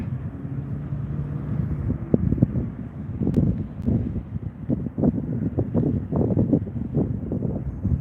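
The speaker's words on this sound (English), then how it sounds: "It's a little breezy out." Evening breeze outdoors on a downtown Las Vegas walk, gusty low rumbling wind buffeting the microphone, rising and falling in bursts throughout.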